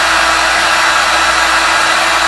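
A heat tool for encaustic painting blows continuously, a loud, steady, close-up whirring hiss like a hair dryer with a faint constant whine, filling the whole moment without pause.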